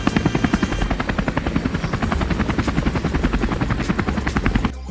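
Helicopter rotor thumping in a fast, steady chop with a constant engine whine, loud and close, running alone without voices and cutting off abruptly at the end.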